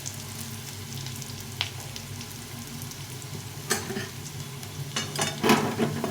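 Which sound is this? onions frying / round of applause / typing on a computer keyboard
onions frying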